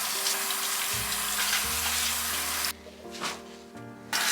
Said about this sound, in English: And then I just go in and rinse them all off.